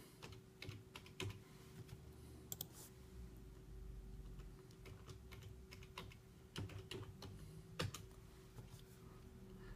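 Fingers type an email address on a computer keyboard, with quick, irregular soft key clicks in short runs and a few pauses, close but quiet over a faint steady hum.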